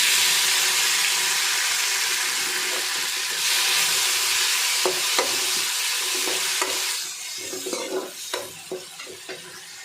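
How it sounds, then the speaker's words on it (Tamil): Onions, curry leaves and tomato sizzle and fry in a pan for sambar with drumstick, with steady crackling sizzle and frequent stirring scrapes and clinks of a spoon against the pan, growing more clattery toward the end. "வெங்காயம் கருவேப்பிலை சேர்த்துக்கோங்க தக்காளி சேர்த்துக்கலாங்க"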